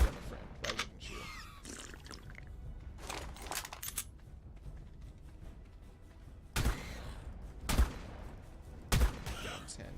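Shotgun blasts ring out in a video game fight against a lava golem, several sharp booming shots spaced a couple of seconds apart over a busy background of game effects.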